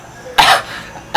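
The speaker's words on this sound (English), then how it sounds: "I started coughing. Just coughing severely." A single harsh cough bursts out close and loud, followed by the start of another cough at the end.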